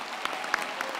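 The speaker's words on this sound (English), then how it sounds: "let's give them a deserved round of applause" A graduation ceremony audience applauds the graduates, a brief dense wash of many hands with a few sharper claps standing out, heard from a distance in a large hall.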